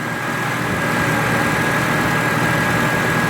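A 1990 Eagle Talon TSi, just started after sitting for 19 years and running hot, idles steadily with a constant low engine drone and a faint whine running through it, close and continuous with no talk.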